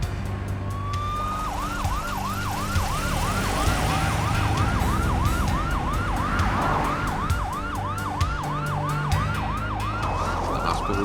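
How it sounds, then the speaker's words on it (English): An ambulance siren wails continuously in a rapid rising-and-falling yelp, loud and fairly close over road traffic rumble, in Hilo. "Paramedics moved her into the ambulance to rush her to the hospital at Hilo."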